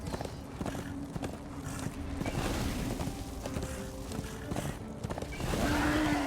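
Rhythmic hoofbeats clip-clop at a gallop in Darksiders II, with a horse's whinny rising near the end over a busy game background.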